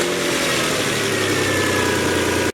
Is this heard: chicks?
no